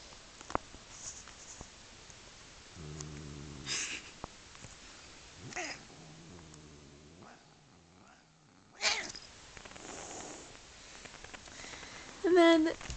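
A nervous cat gives several short meows spread across the clip, soft and fairly close, alongside handling noises and a person speaking quietly.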